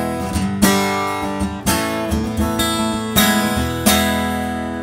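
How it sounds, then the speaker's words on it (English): Acoustic guitar heard through a Cole Clark piezo pickup alone, strummed chords ringing out in a steady rhythm, close and bright with crisp attacks every half to one second. "So this is just the piezo pickup."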